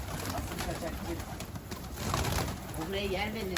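Pigeons coo repeatedly nearby on a rooftop, soft throaty calls under a faint voice and background hum.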